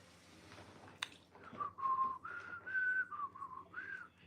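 A person whistles a short, wandering tune close by, with clear sliding notes lasting a few seconds against a quiet room.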